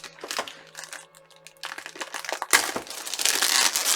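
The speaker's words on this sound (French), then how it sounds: "On va déjà ouvrir l'emballage" Plastic packaging crinkles and crackles as it is unwrapped from a 1:18 scale Norev model of a 1976 Citroën CX Pallas, starting softly and growing louder and denser toward the end, close up.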